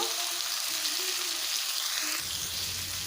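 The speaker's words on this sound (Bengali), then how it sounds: "এবারে সবজিগুলো ভাজার জন্য দিয়ে দেবো সামান্য পরিমাণ লবণ দিয়ে দেবো সামান্য পরিমাণ হলুদ গুঁড়ো" Vegetables fry in a pan of hot oil with salt and turmeric, giving a steady close sizzle and crackle that runs throughout, slightly shifting in texture partway as the food settles.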